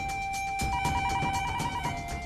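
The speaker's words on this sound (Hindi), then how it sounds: "फोन बज रहा, कौन उठाता क्या रे बे?" A telephone rings with a steady electronic bell tone pulsing in repeated bursts, fairly close and clear, with no talking.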